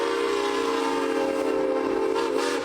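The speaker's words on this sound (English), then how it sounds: "This is the Granite Rock 10. It is a steam engine here" Granite Rock 10, a historic steam locomotive at the California State Railroad Museum in Old Sacramento, gives a loud, sustained, steady tone that fits its whistle, running unbroken with no talk over it.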